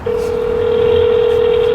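A telephone number is dialed on a phone before a call to an apartment community, heard as one steady, loud dial tone lasting almost two seconds with faint background noise.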